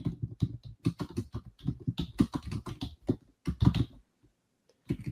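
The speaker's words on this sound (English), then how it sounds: "But I'm going to be typing in our WebEx right now." Computer keyboard keys clatter in quick, uneven bursts of close, crisp taps, pausing briefly near the end before a few more strokes, with no voices.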